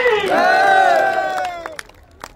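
A large crowd at a religious bhandara gathering in Kablana raises a loud unified cheering shout that swells and then trails off, with a few scattered claps near the end.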